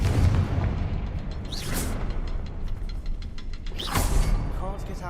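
Confringo blasting spell explosions in the game Hogwarts Legacy, two sharp booming blasts with whooshing bursts about two seconds apart, loud and close over a low rumbling background.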